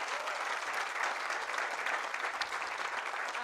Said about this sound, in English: Please join me in giving a massive round of applause for the incredible Nyangora Kids troupe.